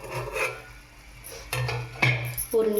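A plate set down as a lid over a pan of cooking semolina for banana kesari lands with a couple of clattering ceramic-on-metal scrapes and knocks, close and fairly loud, with quieter rubbing in between.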